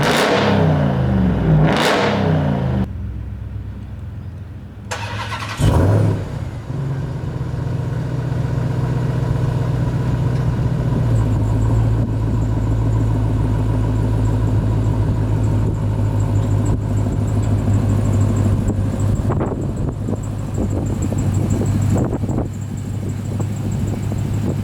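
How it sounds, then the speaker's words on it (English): A supercharged Hellcat V8 in a 2021 Ram TRX idles with a steady, loud rumble after a brief rev or two, heard outdoors with gusty wind buffeting the microphone. "the sound of the Hellcat engine is just phenomenal"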